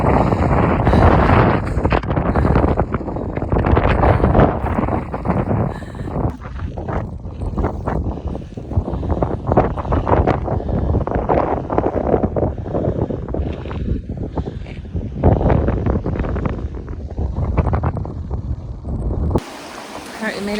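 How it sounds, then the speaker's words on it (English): Strong wind gusting across a gorge in Iceland in October, buffeting the microphone with loud, continuous roaring rumble throughout, ending with a brief drop near the close; a person talks at times under the blustering. "It's really windy."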